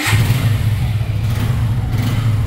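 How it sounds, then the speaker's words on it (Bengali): A 2023 Suzuki Gixxer motorcycle engine runs loud and close, a steady low throbbing drone with slight revving fluctuations and no pauses, heard alone without any talking. "সাউন্ডটা এসে দেখবেন ভাই, বাইকের সাউন্ড"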